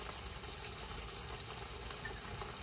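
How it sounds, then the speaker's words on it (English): Hot water runs steadily from a kitchen tap while dishes are washed, a continuous, fairly faint hiss with no voices. "I'm gonna come over here and do my dishes."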